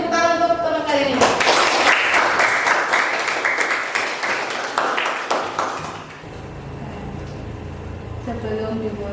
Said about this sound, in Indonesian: Jadi tepuk tangan untuk teman kalian ini